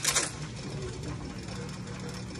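An antique dog tag embossing machine runs steadily, with a continuous mechanical whirring and rapid clatter like a sewing machine, moderately quiet and close, with a brief sharper clack at the start.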